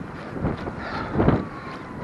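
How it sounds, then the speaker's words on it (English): Wind on a sunny, dry day buffets a microphone during an outdoor run, giving a brief spell of rough, gusty rumbling that swells in the middle. "It's sunny, dry, and it's a bit windy."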